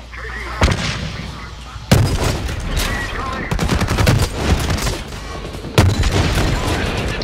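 Rapid gunfire and sharp blasts from a Blacklight Retribution multiplayer match, loud and continuous with several heavy bursts standing out over dense shooting.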